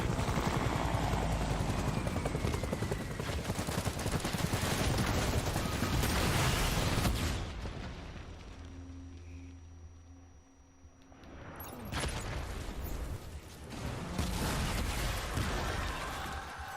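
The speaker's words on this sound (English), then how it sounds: "So many explosions." Explosions and gunfire in the video game Death Stranding: dense, loud bursts and rumbling blasts, which drop off to a quieter lull with a low hum and then return with more bursts.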